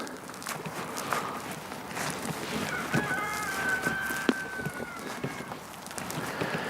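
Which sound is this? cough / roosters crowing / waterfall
roosters crowing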